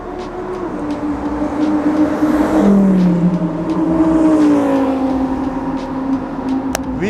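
A Lamborghini Huracan STO engine drones continuously on track at Sepang International Circuit, pitch dipping and climbing as it shifts and accelerates, loud and sustained throughout.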